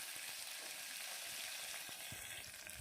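Finely chopped small onions fry in hot oil with fenugreek seeds in a cooker, giving a steady, even sizzle and crackle that runs without pause and without any voices.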